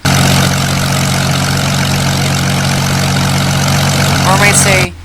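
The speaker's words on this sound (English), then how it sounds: "or I might say engine sound" Plane engine in the Roblox game Plane Crazy, a loud steady droning hum with a constant low tone that runs for several seconds, then cuts off abruptly near the end.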